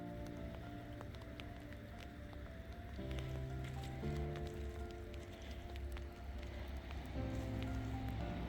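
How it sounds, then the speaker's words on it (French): Rain falling on a coastal hiking path on the Roscanvel peninsula, a soft, steady patter with scattered drop ticks and footsteps, set against a low constant hum. "je démarre le chemin sous la pluie"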